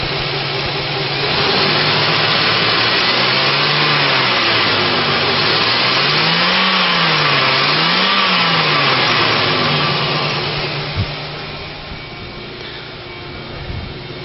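A 2005 Chevy Equinox with a 3.4 liter engine and automatic transmission idles steadily, then revs up and down in a few slow, smooth swells before settling back to idle, close and loud.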